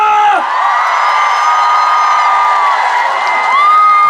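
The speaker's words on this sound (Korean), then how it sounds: "다 같이 다시 한 번 더 박수와 함성!" A festival audience cheers and shouts in a loud, sustained wave, with high whoops rising above the crowd for about four seconds.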